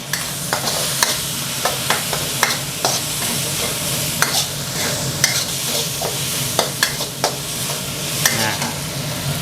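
Minced pork and holy basil stir-fried in a hot wok for pad kaprao with oyster sauce, dark soy sauce and ground pepper, a steady loud sizzle broken by regular sharp scrapes and clacks of the spatula.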